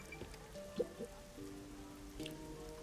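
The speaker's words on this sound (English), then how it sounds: "I've heard that it always rains here." Steady rain falling in the video game Master Detective Archives: Rain Code, a faint constant patter with occasional drips over low background game music and tones.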